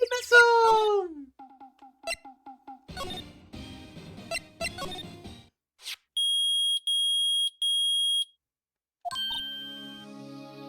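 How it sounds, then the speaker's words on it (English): A metal detector beeps in the Phoenix Wright: Ace Attorney video game, sounding three loud, steady electronic tones in a row. Earlier, short game sound effects and blips pop in and out. "It's beeping. The metal detector found something."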